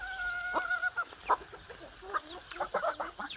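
A Wyandotte hen clucks in short repeated bursts beside her four chicks, close and fairly loud, with other chickens faintly around.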